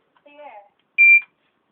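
A household smoke alarm sounds a single steady, piercing electronic beep of about a quarter second after its test button is pressed, loud and close, following a brief moment of speech.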